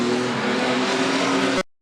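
Race car number 15 sweeps through a turn on a racing oval, its engine a loud, steady, close-up roar with a hint of tire scrub, then cutting out abruptly near the end.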